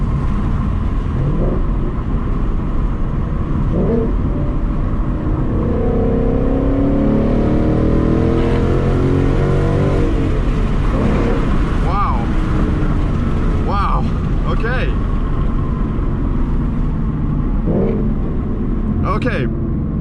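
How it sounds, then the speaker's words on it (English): A Ford Mustang GT with a Corsa exhaust runs and accelerates, its engine note rising and falling in a loud steady drone from inside the car while someone talks over it. "The whole car sounds different."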